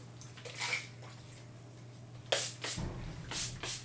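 Hair product misted from a spray bottle onto the top section of hair during a quick blow-dry styling: a few short, sharp hissing sprays, the strongest and closest clustered at the end, over a faint steady hum.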